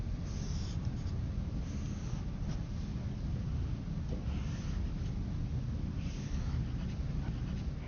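Pen strokes scratch on paper while a cosecant graph cycle is drawn, soft and close under a steady hum of background noise, with no talking.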